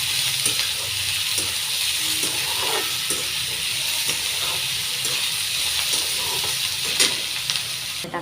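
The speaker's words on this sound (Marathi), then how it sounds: "कांदा चांगला सोनेरी रंग येईपर्यंत घ्यायचा" Onion fries in a pan for a dried-fish dish, a continuous even sizzle and hiss with faint scattered crackles and small stirring taps throughout.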